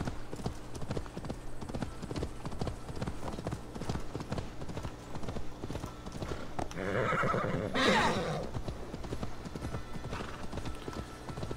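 Horse hooves clip-clop steadily in the Assassin's Creed Valhalla video game, with a loud neigh breaking in partway through and continued trotting afterward, no voices.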